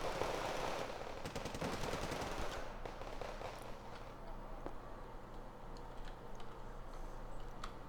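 Rifle gunfire in the Wargame Red Dragon real-time strategy game, rapid rattling bursts loudest early and fading to sparse distant pops over a low battlefield rumble.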